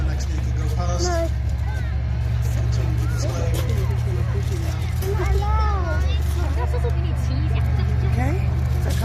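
A military vehicle rumbles past at a tank show, a deep, steady engine drone that swells in the middle, with people chatting nearby throughout.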